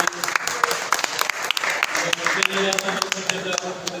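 Audience applause at a prize distribution ceremony, sustained scattered clapping from a crowd with a voice speaking over it.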